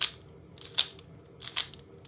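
A Rubik's cube turned one-handed with a quick double turn, giving a few sharp plastic clicks and snaps close up in a quiet room.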